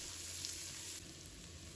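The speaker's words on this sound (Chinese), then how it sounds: "油热之后，把葱蒜放入锅中炒香" Scallions and garlic sizzle steadily in hot oil in a wok, a close, even frying hiss with no talking.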